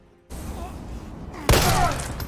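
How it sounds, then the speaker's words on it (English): A single loud, sharp gunshot goes off in the video game Resident Evil 3, bursting suddenly out of a low game ambience and then ringing on with a broad, echoing crack. "I shot him in the head"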